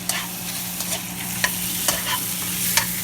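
Beef stir-frying in a pan for beef and broccoli, a steady close sizzle punctuated by regular sharp scrapes and taps of the utensil about every half second, under a constant low hum, with no voices.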